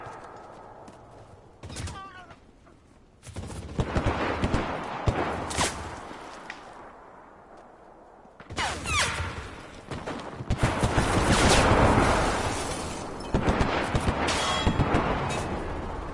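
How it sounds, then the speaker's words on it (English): Bursts of gunfire in the video game Enlisted, clustered volleys of shots cracking through a farmhouse fight, loud and dense with brief lulls between flurries. "Bullets flying all through the house"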